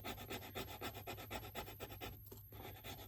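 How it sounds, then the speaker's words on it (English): A wooden popsicle stick rubs back and forth over a rub-on transfer sheet in quick, even scratchy strokes, close and steady, with a couple of brief pauses near the end. "Take this popsicle stick and just start rubbing."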